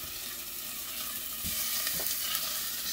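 Garlic and onion sauté in olive oil with a soft, low, even sizzle and faint stirring, quiet and close, with no one talking.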